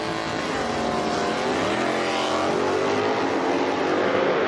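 A drag racing car launches at full throttle with the clutch dumped, a loud, sustained engine roar that rises steadily in pitch as it pulls away, with no talk over it.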